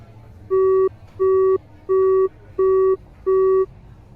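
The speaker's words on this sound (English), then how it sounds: "my cell phone rang loudly" A cell phone rings loudly and up close with five evenly spaced electronic tone pulses, each about a third of a second long, over faint background hum.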